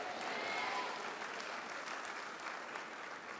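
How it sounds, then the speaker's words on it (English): A church congregation claps hands together in sustained, dense applause that stays steady and fairly loud throughout, with faint voices mixed in. "clap your hands and shout amen"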